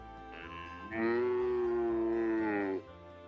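A cow moos once in a long, loud, drawn-out call with a rising and falling tone. It is heard alone, with no talk over it.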